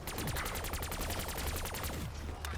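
AK-74U automatic fire in Black Ops 3 Zombies, a fast and even burst of about twenty rounds lasting roughly two seconds, then one last shot shortly afterward.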